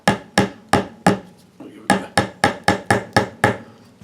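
A small hammer taps a raised fret on a Stratocaster-style guitar clone build, a dozen sharp close knocks in quick bursts with a brief pause between.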